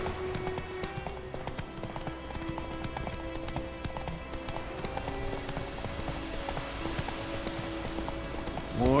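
A horse gallops in The Witcher 3 video game, its hooves beating a fast, steady clip-clop close by, layered over game music and ambience with no talking.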